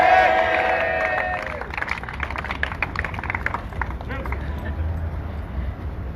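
A crowd at a night prayer gathering for Goma loudly acclaims together, with a voice ringing out first and then a broad, noisy mass of cheering and clapping that gradually settles.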